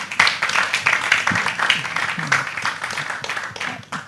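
Thin, scattered applause from a small audience at a televised event, uneven patchy clapping that stays moderate and gradually tails off.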